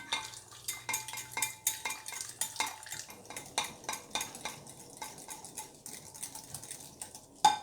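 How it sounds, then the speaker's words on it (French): A whisk stirs a homemade detangling hair mask in a bowl, giving a rapid series of close clinking, scraping strokes against the bowl at a steady, busy rhythm, with no talking. "Je prends mon fouet. Et je vais remuer."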